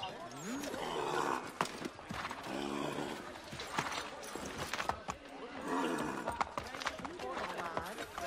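Horse hooves from Assassin's Creed III clop through a busy game soundtrack, loud and continuous. A voice talks over the hoofbeats, with music and effects around them.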